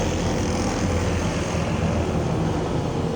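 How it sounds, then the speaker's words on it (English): A Bobcat skid-steer loader drives past at a tractor show, a steady loud engine roar with broad rumbling noise that holds constant throughout, no talking. "got a Bobcat going by."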